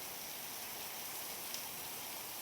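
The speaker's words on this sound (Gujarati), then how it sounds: "વરસાદનો ભાઈ પેલો વરસાદ છે આજે" Heavy monsoon rain falls on a village as a steady, even hiss of dense drops, continuous and moderately faint, with no other clear sounds.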